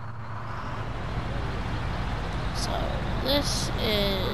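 A big truck drives in a video game with a steady, loud low engine drone that keeps going throughout, with a few brief high squeals and chirps near the end.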